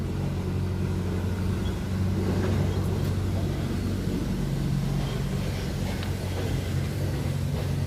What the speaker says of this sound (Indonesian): Seperti ini engine-nya OM 366 LA ya, turbo intercooler